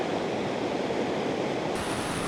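A high mountain stream on a Ladakh trekking route rushes past nearby, a dense, steady roar of flowing water with no other sounds.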